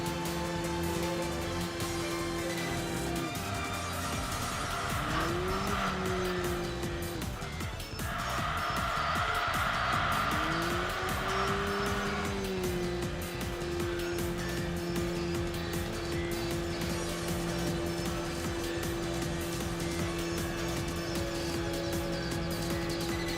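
A race car in Enthusia Professional Racing drives and corners, its engine note holding a steady whine, dipping and climbing again through gear and speed changes, with tire noise through the bends and no talk.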